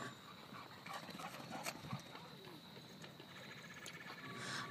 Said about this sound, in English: Local dogs enjoy a good romp and wrestle at the Kingston Point Dog Park, where they are free to run off-leash in a designated fenced-in area.